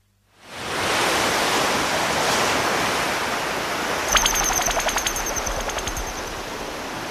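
Ocean waves wash steadily onto a white-sand beach on Zamami Island in Okinawa's Kerama Islands, a loud, continuous broadband surf roar that swells in after a quiet start, with a brief burst of rapid clicking partway through and no voices.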